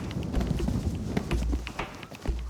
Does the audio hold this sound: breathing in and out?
no